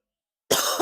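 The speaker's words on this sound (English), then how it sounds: "still got a bit of a cough" After a moment of silence, a single close, rough cough bursts out during rusty car frame repair work, followed quickly by a second smaller hack.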